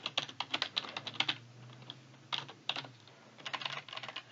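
Keys clatter on a computer keyboard while someone enters details during a Windows setup, quick clustered taps in bursts separated by short pauses, close and fairly quiet.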